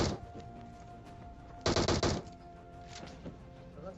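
Gunfire in the PUBG video game, a short dense burst of rapid shots cutting through quieter game ambience, with a few fainter thumps afterward.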